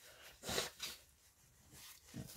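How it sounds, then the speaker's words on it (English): A couple of short, breathy nasal blasts, one after another, followed by a quieter snuffle near the end. "I've got to blow my nose"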